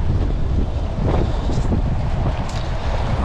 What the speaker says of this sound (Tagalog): Grabe, malakas lang yung hangin.